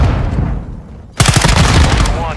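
Gunfire in the video game Call of Duty DMZ bursts in abruptly after a quieter stretch, a loud, dense stream of shots that continues to the end, with voices talking over it.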